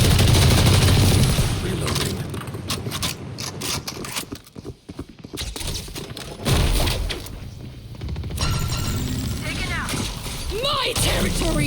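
Gunfire in the Valorant video game, rapid bursts of shots and loud effects under excited Tamil speech from players shouting over the action.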